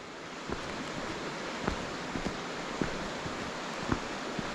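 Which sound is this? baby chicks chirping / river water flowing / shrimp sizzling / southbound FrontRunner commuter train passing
river water flowing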